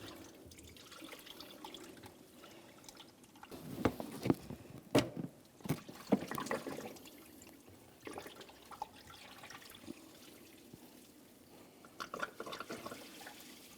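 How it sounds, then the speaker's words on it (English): Coolant from a 2007-2014 GMC Sierra 2500 HD radiator hose trickles and splashes faintly into a receptacle, with intermittent drips and a few louder spatters in the middle amid soft handling noise. "as I start pulling this off, I'm going to try to direct the coolant down into my coolant receptacle"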